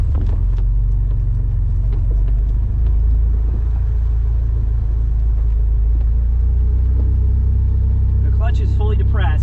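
A 1980s car labours up a driveway in second gear, its engine a loud, close, low rumble that holds steady throughout, with a voice talking briefly near the end.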